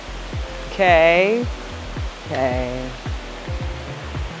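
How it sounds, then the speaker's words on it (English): A waterfall in Tahiti pours as a steady, full hiss, surrounded by lush plants. The rush continues beneath a nearby person speaking and humming. "make sure you visit this waterfall"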